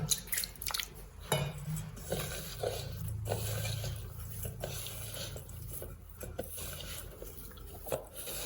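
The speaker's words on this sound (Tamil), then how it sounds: "இன்னும் கொஞ்சம் தண்ணியை தெளிச்சுக்கலாம்." Water sprinkled by hand onto puttu rice flour in a bowl during kitchen prep, heard as soft scattered drips and light clinks of the bowl, with quiet mixing and rubbing sounds throughout and no talking.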